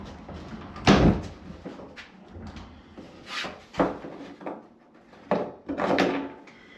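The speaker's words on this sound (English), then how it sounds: "Bifold door." A bifold door is worked open and closed several times, producing a series of sharp wooden knocks, clacks and thuds spaced irregularly, close by, with quieter rattling between them.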